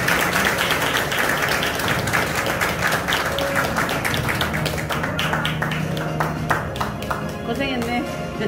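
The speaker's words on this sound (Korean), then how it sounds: "큰 박수로 환영해 주시면 감사하겠습니다." Audience applause fills the room at a Rotary club officer installation ceremony in Gwangju, welcoming the incoming club secretary. Dense, steady clapping holds throughout at a loud, even level, with scattered murmuring underneath.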